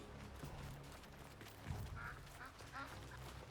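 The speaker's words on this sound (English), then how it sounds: "I hear a duck." A duck quacks in the video game Soulframe, a few short nasal calls standing out over a low, rumbling ambient game background.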